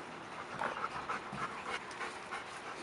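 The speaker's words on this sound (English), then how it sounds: "You are a silly dog." A dog pants rapidly and steadily at close range while playing tug with a rope, a continuous breathy rhythm with no talking.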